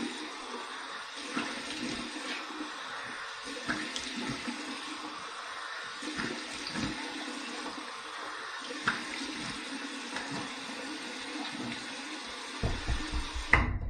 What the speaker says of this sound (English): here is my cold water rinse